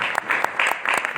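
An audience in Lahore applauds at a tabla solo concert: steady, dense clapping from many hands, continuous and fairly loud throughout, with no talk on top.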